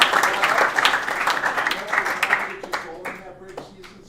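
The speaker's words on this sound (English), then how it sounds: "So let's give a good round of applause to him." Applause from the audience at a boys hockey banquet, strong clapping that gradually thins into scattered claps, with voices talking faintly toward the end.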